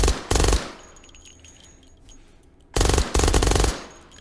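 Two short bursts of suppressed Mac-10 automatic fire in the VR shooter H3VR, loud and close, separated by a quiet pause with a faint high mechanical whine.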